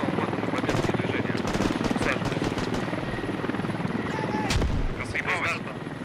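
A helicopter in the video game Squad gives a loud, continuous rotor drone that fills the whole stretch, with a brief heavier burst near the end. Voices talk over it.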